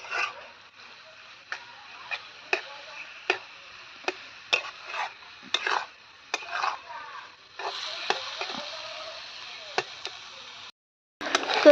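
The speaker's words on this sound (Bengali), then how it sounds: "মাশরুমটা আমি ভেজে নিয়েছি" Sliced mushrooms frying in a pan while being stirred, the steady hiss of cooking under sharp scraping knocks of a spoon against the pan every second or so, close up.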